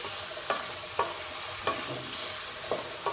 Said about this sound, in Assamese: লৰাই লওঁ।